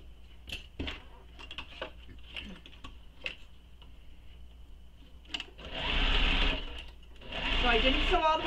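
A sewing machine stitches a handbag base to its lining, first in short clicks and taps under quiet talk, then in two loud whirring runs of rapid stitching close by.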